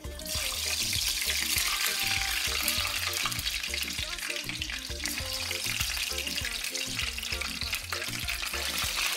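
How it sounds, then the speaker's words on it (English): Steady, dense sizzling of Nigerian fish rolls frying in hot oil over very low heat, crackling continuously and close up with no talking. "So I'm just gonna start frying."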